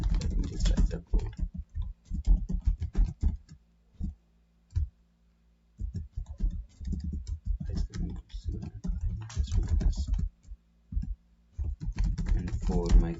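Rapid clicking keystrokes as someone types code on a computer keyboard, in uneven bursts with short pauses, close and steady across the whole stretch.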